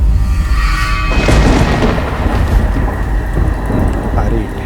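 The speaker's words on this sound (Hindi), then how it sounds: "ये बादल बस गरज रहे हैं, बरसेंगे नहीं।" Heavy rain pours steadily while a deep rumble of thunder rolls in and swells during a stormy night in a Hindi horror audio drama, loud and close throughout with no voices.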